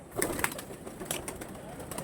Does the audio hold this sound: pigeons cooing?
yes